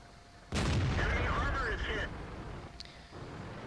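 Tank cannon fire in World of Tanks, with one loud, booming shot followed by a rumbling decay and a faint later click, while someone talks over it.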